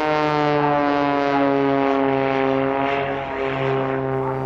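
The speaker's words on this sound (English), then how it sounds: "There was one man up to the task though, national aerobatic champion Gerald Cooper in his CAP 232" A CAP 232 aerobatic propeller plane flying at the Bournemouth Air Festival, a loud sustained droning engine with strong harmonic tones that shift in pitch as it manoeuvres, heard alone and close.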